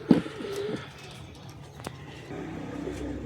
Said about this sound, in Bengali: এই হলো কবুতরটা। এটা হলো নর কবুতর।